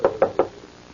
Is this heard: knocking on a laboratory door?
yes